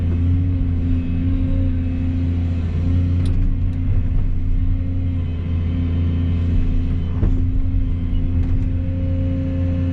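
A dredging machine's diesel engine rumbles steadily while digging at a cove, a deep constant drone with a faint hum on top and a few small knocks, close and loud with no talking.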